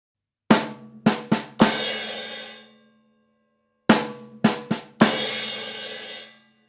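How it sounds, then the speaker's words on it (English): Two quick drum-kit phrases: rapid 32nd-note snare strokes flowing into a ringing crash, separated by a short silence. "Because we're playing 32nd notes. That sounds like this."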